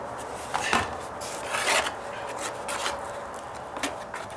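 A 1.5-inch putty knife stirs and scrapes floor patch compound, making a few short, gritty scraping strokes with soft wet rubbing between them, up close.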